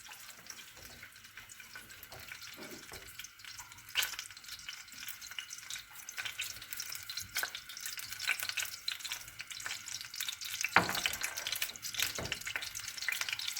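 Oil sizzles and crackles steadily in a pan for baked eggplant kebab, a busy hiss that grows a little louder over time, with occasional clinks.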